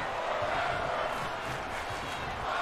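A steady roar of an excited arena crowd during a wrestling match in WWE 2K22, with a dense, unbroken wash of cheering and yelling throughout, no distinct voices standing out.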